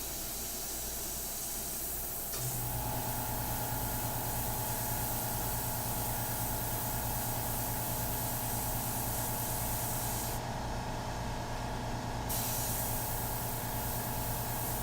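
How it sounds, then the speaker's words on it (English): Soft, steady hiss of an airbrush spraying India ink onto a portrait, starting after a brief quieter moment and continuing evenly with a low hum beneath, no voices. "Let me lower the airbrush a little bit with the pack valve."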